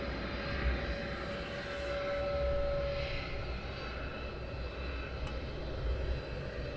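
An Airbus A300 at Luton Airport in the early morning, its engines giving a steady, broad, rumbling roar with a faint whine that holds at a moderate distance for several seconds.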